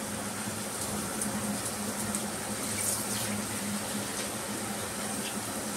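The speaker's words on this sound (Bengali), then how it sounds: "মশলার বাটিতেই জলটা নিয়ে নিলাম" Water poured into a bowl that had held ground spice paste, a continuous even rushing flow like a running tap, moderately loud and uninterrupted, with no talking.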